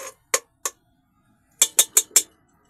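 Spaghetti stirred in a pot with a utensil: three sharp clinks, a pause, then four quick metallic scrapes and taps close by, with no talking.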